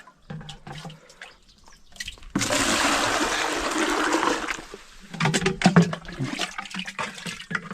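Warm water runs steadily into a tank while a spray mix is prepared to treat tomatoes for late blight, a continuous hiss lasting several seconds between shorter splashes and clatter.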